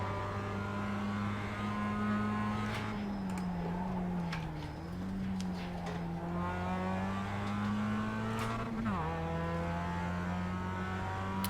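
Mazda MX-5 Cup race car engines drone steadily in the iRacing simulator, a close sustained engine tone with subtle pitch shifts as gears change, continuous and without talk.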